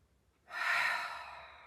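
A single deep breath is drawn in during a seated hamstring stretch, a close, airy rush that rises quickly and then slowly fades.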